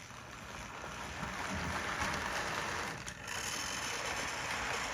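A Rivarossi 284 model locomotive rolls over newly laid switches on a layout, giving a steady, faint whirring rumble with a brief dip partway through.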